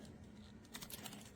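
Light, rapid tapping of keys on a Samsung Galaxy Tab keyboard case, a soft plastic clatter in a quick irregular run, close and fairly quiet.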